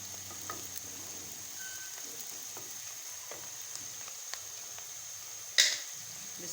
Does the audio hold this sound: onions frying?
yes